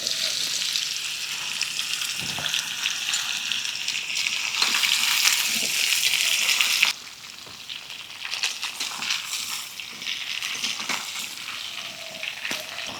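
Raw mango pieces fry over high heat in smoking-hot oil with crackling five-spice tempering, giving a loud, steady close sizzle that drops abruptly to a softer, continuing hiss partway through, with no voices.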